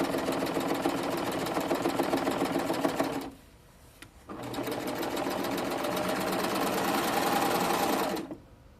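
A serger runs loud and steady while sewing elastic onto a ruffle skirt, stops for about a second, then runs again for several seconds before stopping.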